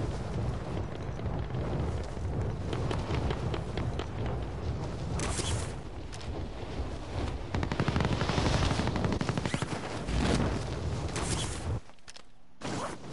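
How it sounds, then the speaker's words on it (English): Shotgun blasts from the video game Warzone come fast and heavy amid other bursts of in-game gunfire. The shots form a loud, dense, near-continuous barrage that cuts off abruptly near the end. "Fucking stupid stupid shotguns."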